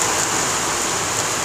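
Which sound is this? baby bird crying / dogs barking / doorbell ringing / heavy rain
heavy rain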